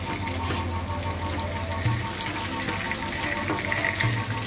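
Pomfret fish shallow-frying on a tawa over a medium flame, giving a steady, continuous sizzle and crackle close by with no talk.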